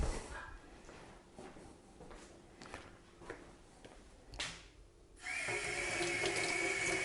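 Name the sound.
water running while rinsing a pH meter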